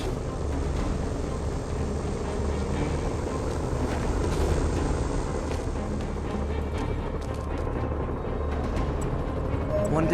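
A helicopter in Marvel's Spider-Man video game drones with a loud continuous rotor and engine roar, mixed with game effects and a voice talking over it.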